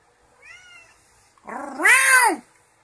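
A cat gives a soft, short meow, then a louder, drawn-out, whiny yowl close by, with no talking.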